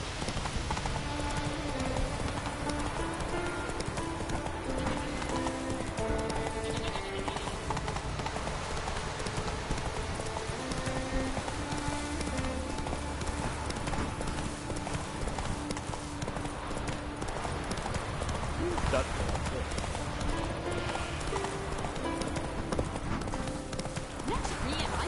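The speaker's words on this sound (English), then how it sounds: "Come on, Roach" Roach the horse gallops in Witcher 3, a steady clip-clop of hooves running under game music, with a voice speaking over it.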